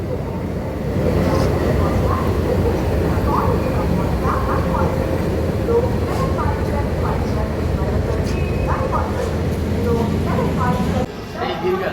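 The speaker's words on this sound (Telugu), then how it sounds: "ట్రైన్ వచ్చింది అన్న" An LTT Express pulls in behind a WDG4 diesel locomotive, giving a loud, continuous rumble with rhythmic clanking. Voices carry faintly over it, and the noise drops away abruptly at the end.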